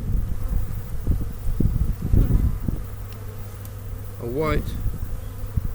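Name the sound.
honey bees in opened beehive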